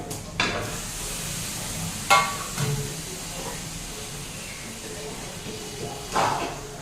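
Chicken curry masala frying in oil in a pan, a soft steady sizzle broken by a few sharp spoon scrapes and clinks as it is stirred.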